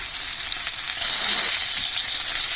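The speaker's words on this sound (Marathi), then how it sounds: "आपल्याला गॅस मंद आचेवर ठेवून ही कारली छान एका बाजूला पंधरा मिनिटे व दुसऱ्या बाजूला पंधरा मिनिटे अशी खमंग परतून घ्यायची आहे" Stuffed bitter gourds fry over a low flame in an iron kadhai, giving a steady, close crackling sizzle throughout with no voices.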